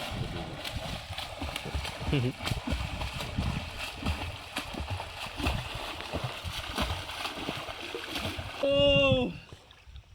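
Water splashing and churning throughout as people bathe in a river, with voices talking over it and a short sung or shouted phrase near the end.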